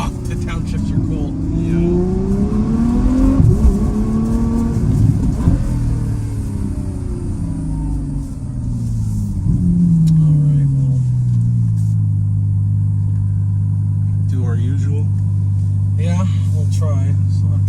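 A Ferrari F12 Berlinetta V12 with a Valvetronic exhaust revs up and down through several loud downshifts, its engine note rising and falling in sharp swoops before settling into a steady, rumbling idle.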